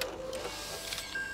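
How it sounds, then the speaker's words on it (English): A mechanical printer in a cartoon toy workshop churns out wrapping paper with a steady whirring motor hum and light rattling, continuous at moderate volume. "It's some kind of printer."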